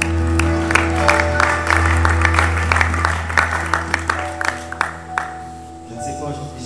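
A church congregation claps in steady, sustained applause after a scripture reading, with an organ or sustained tones ringing beneath and the clapping fading out near the end.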